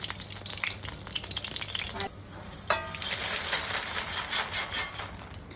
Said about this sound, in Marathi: तूप छान तापलं ना की मग हे मखाने त्यात टाकायचे. लो फ्लेमवर मस्तपैकी भाजून घ्यायचे